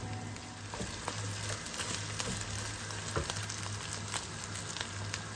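Meaty spaghetti sauce sautéing in a pan gives a moderate, even sizzle up close, broken by repeated light clinks and scrapes of a spoon stirring, with no talking.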